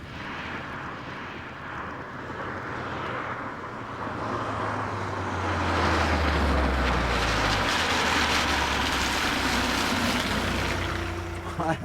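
A 1993 Vauxhall Cavalier travels at well over 100, with a broad rushing roar of engine and wind that swells and then holds steady, faintly under a voice.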